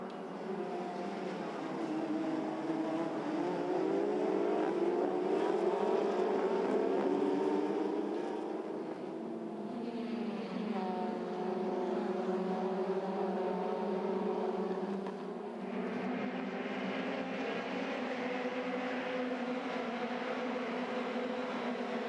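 Formula Renault Eurocup race cars at the Hungaroring circuit, a continuous high engine drone from several cars heard at a distance, pitch shifting as they accelerate under race conditions, with a steady crowd-free wash of track noise.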